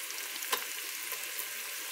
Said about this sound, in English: We'll just fry a little bit the onion. Then now we're adding our garlic.